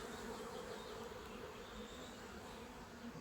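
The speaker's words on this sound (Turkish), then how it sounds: "Görüyorsunuz arılarımız. Yavru uçuruyorlar." Honey bees hum around their beehives in a continuous, even drone, faint but unbroken, with no speech.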